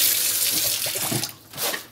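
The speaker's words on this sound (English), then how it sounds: "so we're rinsing the fish thoroughly." Running tap water splashing into a sink while a whole fish from the snapper family is rinsed by hand, a close, steady gush with brief shifts as the stream hits the fish.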